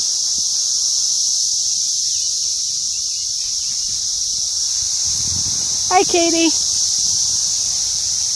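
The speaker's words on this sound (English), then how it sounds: "We're being invaded by cicadas." A swarm of cicadas in Ohio drones as a loud, steady, high-pitched chorus through the whole stretch. A person speaks briefly over it near the end.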